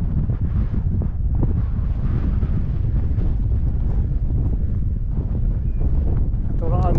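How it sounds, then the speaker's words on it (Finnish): Strong wind buffets the microphone in a continuous heavy roar, with gusts rising and falling throughout. "Aivan hirviä tuuli täällä."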